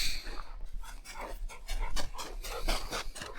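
Hunting dogs pant hard while driving a lone wild boar through dense forest during a driven hunt, a close, steady rhythm of quick rasping breaths with no talking.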